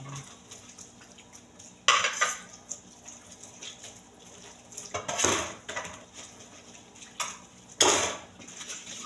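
Plates and dishes are washed by hand, with repeated ceramic clinks and clatters, scraping, and the splash of water, all at close range and in irregular bursts without speech.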